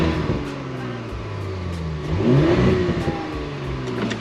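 An Audi S4 B9 engine drones steadily, then swells in a rising rev near the middle before settling, heard close and fairly loud from the car.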